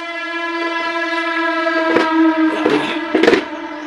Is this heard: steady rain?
no